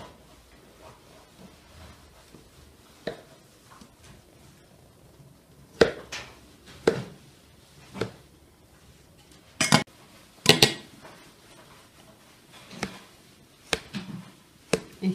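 A knife cuts through baklava pastry for a Nowruz dessert, giving sharp clinks and taps that start sparse and faint, then come in irregular clusters of crisp strikes, close and fairly loud, with no talking.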